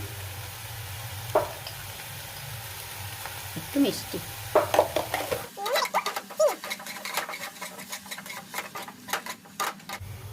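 Egg and coriander masala frying in a pan with chilli, coriander powder, cumin powder and salt, a soft steady sizzle with scraping stirring clicks that grow busier partway through, while a person speaks briefly.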